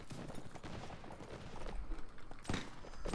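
Musket volleys in Mount & Blade L'aigle, scattered crackling gunshots and popping fire rolling across a battlefield, fairly faint and distant, with a brief loud burst near the end.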